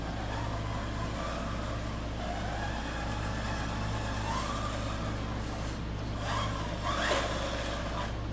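A Tamiya Bruder Mack Granite 1/14 scale RC dump truck drives along with a quiet, steady electric motor whine and soft mechanical hum, rising briefly in a few short surges near the end.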